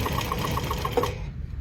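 A Handi Quilter Moxie ST quilting machine stitches along a ruler, giving a quick, even series of needle taps over a low motor hum before it stops abruptly.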